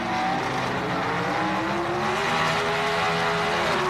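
Drag race cars launch off the starting line at the 1978 NHRA Summernationals, producing a continuous loud engine roar from a distance with a faint hint of tire squeal.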